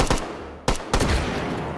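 A World War II gun is fired at hot dogs outdoors, giving several sharp, loud blasts close by, each with a short ringing tail, the last two coming in quick succession.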